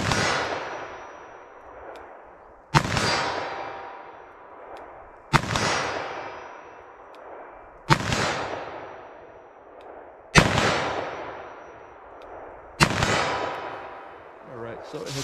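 .357 Magnum rounds are fired into a ballistic gel target outdoors, six loud sharp shots evenly spaced a few seconds apart, each trailing off in a long ringing decay.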